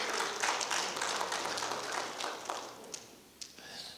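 Church congregation clapping their hands at a prayer meeting, a dense wash of claps that thins out toward the end with a few isolated sharper hits, moderately loud and close.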